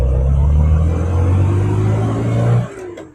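A 1970 Austin-Healey Sprite Mk4 classic British sports car driving with the soft top down, its engine a loud, close, steady low rumble that rises slightly in pitch, then cuts off abruptly near the end.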